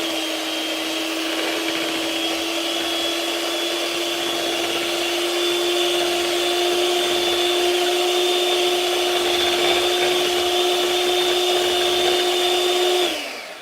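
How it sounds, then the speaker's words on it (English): A loud electric whisk runs at a steady high-pitched whine for about thirteen seconds, then winds down abruptly at the end; no talk. "then we will use the whisk"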